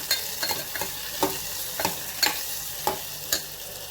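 Mixed vegetables with turmeric and asafoetida sautéing in a pan, with a soft steady sizzle broken by about ten regular scraping stirs, close and with no talk.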